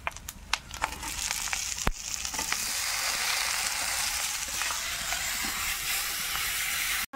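Ginger paste, garlic paste and chopped tomatoes frying in a pan for a home-cooked Bengali meal, a loud steady sizzle filling the whole stretch with a few sharp clicks and stirring knocks near the start.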